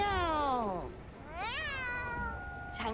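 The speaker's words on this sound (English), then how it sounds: "Meow." A cat meows twice in the video game Monster Hunter Wilds, two drawn-out, gliding cries heard clearly over a low, steady game background.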